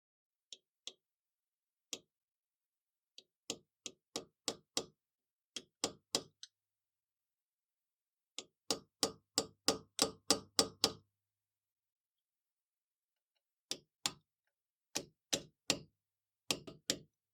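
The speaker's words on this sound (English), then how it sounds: "get a little hammer and a punch and just tap them into place" A small hammer strikes a punch to tap brake pad pins into place on a VW front disc brake, giving crisp, quiet metallic taps in irregular bursts separated by pauses, some in quick runs of several strikes.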